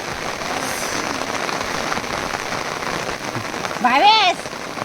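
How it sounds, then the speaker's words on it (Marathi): Steady rain pours outdoors on people at Machal, a scenic hill spot, a dense close hiss of drops hitting surfaces throughout, with a brief voice cutting in near the end. "पाऊस येतोय आणि हे लोक भिजत आहेत."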